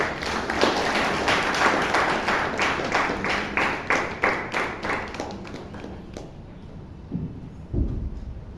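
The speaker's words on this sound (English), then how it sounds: "Let's give her a round of applause." Audience at a Toastmasters meeting in Bangalore claps for several seconds, dense applause fading into scattered claps, then a single thump and quiet.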